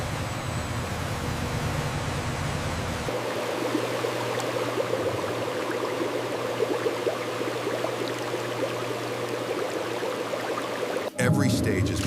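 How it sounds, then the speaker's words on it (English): Steady rushing water washes iceberg lettuce leaves in a salad factory, a continuous broadband spray with a low machinery hum that shifts slightly partway through and cuts off near the end. "Every stage is meticulously engineered to ensure each leaf receives a perfect, gentle wash."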